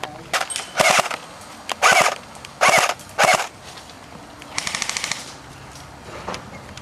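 Airsoft guns fire during an outdoor airsoft game: several short bursts of rapid plastic-sounding shots, close and loud, followed by a quick fast rattle of automatic fire.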